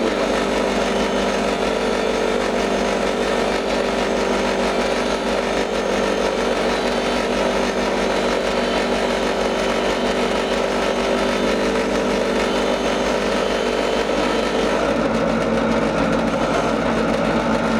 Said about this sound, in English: Once you have flat metal, then you can go over to the buffing wheel.